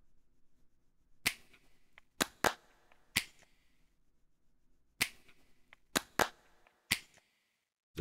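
An unprocessed clap track plays alone, sharp isolated claps in an uneven rhythm, about eight hits with short ringing tails over a faint hiss floor.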